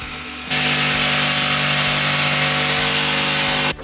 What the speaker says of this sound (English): And then cutting the timber to size at the bottom